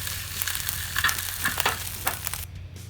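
Salmon fries in a hot pan with a steady, fairly loud sizzle and crackle, joined by a few brief scraping sounds before the noise drops away near the end. No voices are heard.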